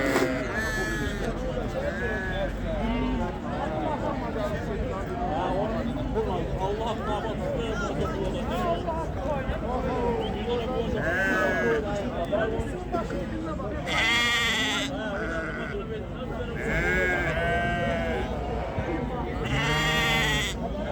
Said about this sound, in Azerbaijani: O belə körpə quzulu qoyunlar içində iri quzular da var.